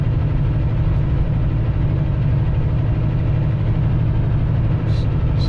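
An old truck's heavy engine labours steadily up a mountain road in Garrett County, Maryland, a loud, constant low drone with deep vibration that holds unchanged throughout, with no talking.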